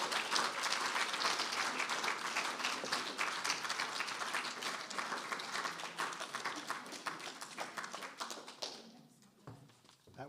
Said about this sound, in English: Another round of applause for Autumn Wallace.